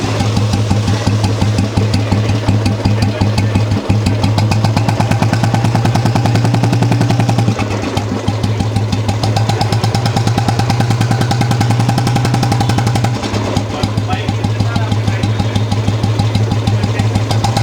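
A restored Royal Enfield Electra motorcycle engine idles steadily and loudly up close, its even thumping beat running throughout with no talk.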